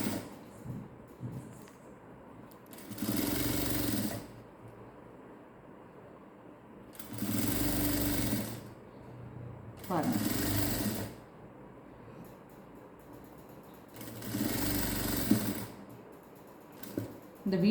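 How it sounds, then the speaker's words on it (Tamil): Sewing machine stitching a V-neck princess blouse with lining, running in four separate bursts of rapid whirring, each a few seconds long, with quiet pauses between them; close and fairly loud. "இப்போ இந்த மேல் பகுதியில் வச்சு நான் அப்படியே ஸ்டிச் பண்ணிட்டு வரேன்"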